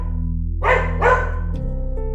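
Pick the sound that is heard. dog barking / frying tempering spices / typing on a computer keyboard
dog barking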